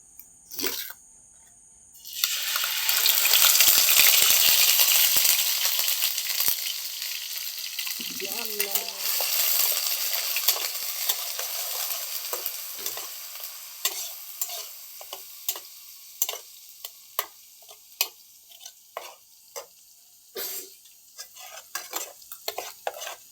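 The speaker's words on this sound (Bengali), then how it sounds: "আমি তেল গরম করলাম, এখন পেঁয়াজ ফলানি হবে।" Loud sizzle bursts as onions hit hot oil, then a long frying hiss that fades gradually, punctuated by scraping and clinking of a spatula against the pan.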